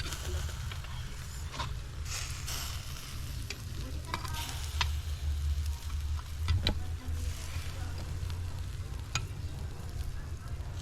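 Sauce for backyard butterfly grilled chicken is stirred steadily as it thickens, a close, continuous sizzling bubble broken by scraping strokes of the spoon, with no talking.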